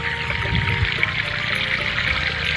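Water piped in from a stream pours out of a pipe into a farm field, a steady, continuous rushing flow with no breaks.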